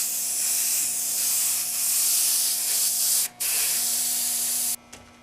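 Silver metallic paint sprays from a spray gun in a loud, steady hiss, broken once by a brief pause before stopping near the end.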